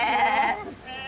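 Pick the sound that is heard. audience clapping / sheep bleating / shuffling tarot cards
sheep bleating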